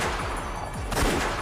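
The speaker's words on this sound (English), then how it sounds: "There's a gunfire ringing throughout the cave." A quick burst of gunfire in a cave in the video game Umineko: When They Cry, a few rapid shots in a row against a dense, noisy backdrop, with one sharper report near the end.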